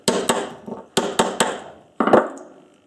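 A lip seal part from a Webb cylinder mower with a Briggs and Stratton engine is knocked with a series of sharp taps, in two quick groups then a heavier final knock, close up and with no talk.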